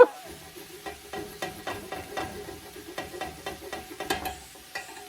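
Onions and carrots brown in a pot. Gentle sizzling runs under repeated clicks and scrapes of stirring, with no voices.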